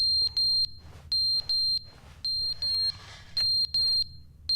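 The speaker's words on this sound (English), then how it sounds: "Fire alarm." A fire alarm in a video game beeps in a steady repeating pattern of loud, high electronic tones over a low background hum, with no talking.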